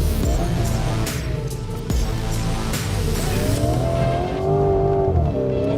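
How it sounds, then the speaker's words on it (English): A Lamborghini Urus SE power oversteers, its engine roaring and revving while the tires squeal in wavering, rising tones, loud and close, with no voices. "As you can see, power oversteering is something you can easily do."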